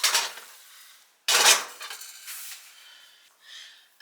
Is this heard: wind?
no